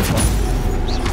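A Stupefy spell cast in Hogwarts Legacy, a short loud magical blast with a bright zinging tone over a thick, booming game din.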